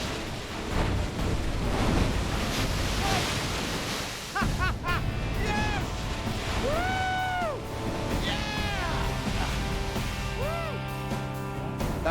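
Rushing river rapids roar steadily and loudly, close by, while excited whoops and shouts from people riding through them rise over the water.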